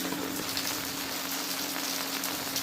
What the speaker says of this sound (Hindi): यहाँ पे देखिए बारिश जो है रुक नहीं रही है